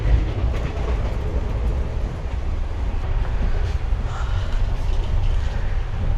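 An ICF train running with the listener inside an AC first class coach on the Ballia–Sealdah Express, a continuous low rumble with faint rhythmic rail clatter throughout.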